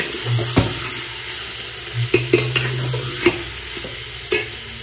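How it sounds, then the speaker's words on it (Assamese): Goat meat frying and sizzling in a pan while being stirred, a steady close sizzle broken by several sharp scrapes and knocks of the spoon against the pan. "এতিয়া মাংসখিনি দি দিলোঁ ইয়াতে অকণমান এনেকৈ ধুনীয়াকৈ লৰাই ভগাই দিম"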